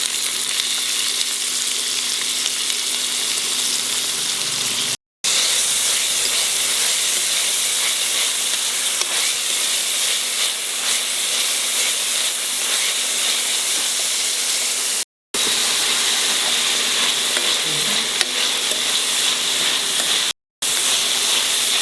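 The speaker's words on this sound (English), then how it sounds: "Now I can put in the onion. 1 large onion chopped, finely chopped." Finely chopped large onion sizzling in a hot pan while a vegetable dish is cooked, a steady loud frying hiss that carries on alone with only brief breaks.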